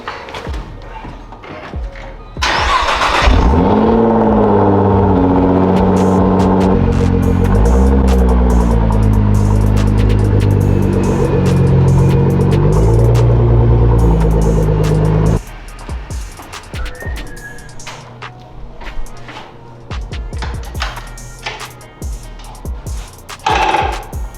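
Nissan GTR with its engine running as it is moved out of a garage, a loud steady low rumble with rising and falling tones that drops off about two thirds through, leaving quieter clatter and knocks.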